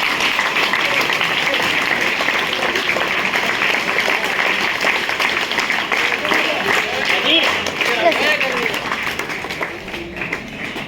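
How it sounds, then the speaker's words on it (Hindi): Audience applause welcoming a guest at a Har Ghar Tiranga campaign event, steady sustained clapping from a crowd lasting throughout, with voices talking underneath. "सामान्य ताली आप बजाएं"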